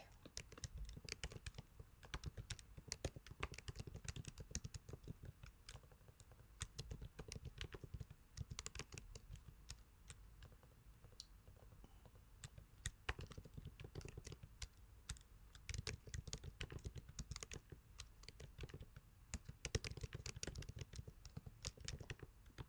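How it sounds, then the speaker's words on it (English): Continuous clicking of computer keyboard keys in bursts of typing, close and moderately quiet, with short pauses between runs of keystrokes. "in my own words, type in what I think"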